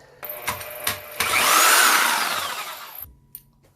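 A Milwaukee Orbital Super Sawzall reciprocating saw, clamped in a vise, starts with a few knocks, runs loud and harsh for about two seconds with a rising whine, then stops abruptly.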